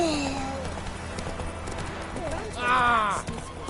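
Roach the horse gallops in The Witcher 3 with rhythmic clip-clop hoofbeats under game music, and a short whinny-like burst near the end, with talk also present.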